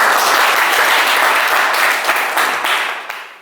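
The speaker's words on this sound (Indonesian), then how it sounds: "tepuk tangan buat kalian" A room full of people clapping hard and fast, loud and sustained, then gradually thinning and fading toward the end, in a classroom after a mock wedding ceremony practice lesson.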